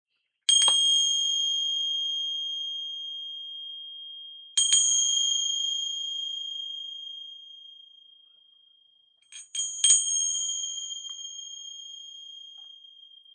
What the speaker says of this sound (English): I'm gonna ring some bells here. They may be a little loud.